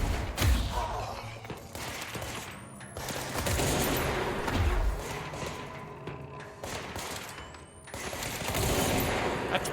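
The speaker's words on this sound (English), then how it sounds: "That's a pretty strong gun." Heavy gunfire in the video game Control, repeated loud bursts and thuds rolling through the scene, with brief voices mixed in.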